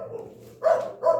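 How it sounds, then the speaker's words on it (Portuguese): A small dog gives two short, fairly loud barks close by, each burst a quick yappy rise after a quieter stretch of low background sound, with no speech over them. "o cachorrinho tá latindo"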